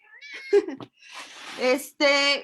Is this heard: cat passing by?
yes